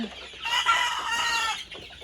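A single Egyptian Fayoumi chicken call rings out close by, a drawn-out clucking cry of about a second against quiet farmyard background.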